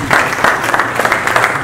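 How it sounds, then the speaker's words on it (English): A lecture-hall audience bursts into steady, dense clapping that fills the whole short moment, close and loud, with no voices over it. "Give Forrest Gump a round of applause"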